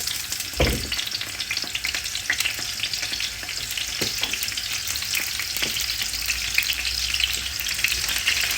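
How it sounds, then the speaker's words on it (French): Bell peppers fry in olive oil for a sauce, giving a loud, continuous crackling sizzle with a heavy thump as they go into the pan and scattered stirring clicks. "Nous allons commencer par mettre nos poivrons."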